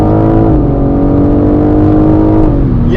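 A BMW M4 Competition xDrive with an 8-speed Steptronic automatic accelerates hard, its engine roaring loud and close with rising pitch, then a quick drop in revs at a gear shift near the end before climbing again, with no talk.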